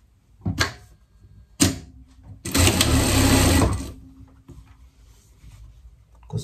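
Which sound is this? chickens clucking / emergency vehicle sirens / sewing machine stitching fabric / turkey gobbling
sewing machine stitching fabric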